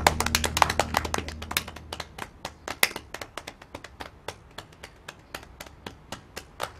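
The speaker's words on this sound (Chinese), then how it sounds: "哎，咱们聋了个聋了，快有个快鼓掌！" A small group claps by hand, sharp irregular claps that thin out into steady sparse slaps, fairly close and with no talk over them, after a kung fu film scene.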